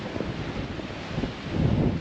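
Strong, cold wind blows across a hilltop church viewpoint overlooking the outskirts of Tbilisi, Georgia, buffeting the microphone with a loud, continuous low rumble that surges toward the end, with no talking.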